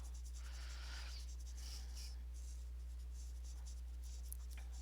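A Parkoo brush marker scratches and swishes softly across paper in quick strokes while coloring, faint and close, over a steady low electrical hum.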